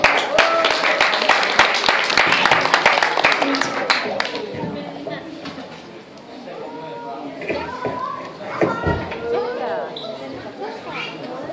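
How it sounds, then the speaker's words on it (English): Audience applause at a school graduation carnival show, dense clapping for the first four seconds mixed with crowd chatter, then fading into murmuring voices and scattered claps. "Applaudissements!"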